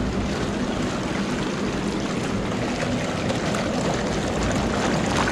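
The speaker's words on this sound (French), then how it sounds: "je viens de démarrer la pompe numéro 1 qui alimente exclusivement la place allongée de ce côté-là" Pool pump number 1, feeding the lounging ledge on one side, runs with a steady, loud rush of flowing and splashing water, a constant broadband wash with no pauses.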